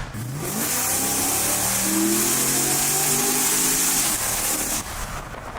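Refurbished car engine revving up and holding high, a strong rising then sustained engine roar close by, easing off near the end; moderately loud rather than extremely loud.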